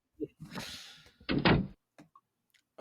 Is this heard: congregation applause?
no